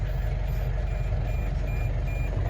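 A steady high-pitched electronic alarm beep from a tractor sounds repeatedly over the low rumble of its idling engine nearby.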